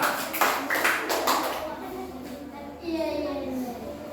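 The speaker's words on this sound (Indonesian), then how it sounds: "Tepuk tangan dulu untuk kelompok 3." Children in a classroom applaud a presenting group with a short, lively burst of clapping that fades, with voices heard over and after it.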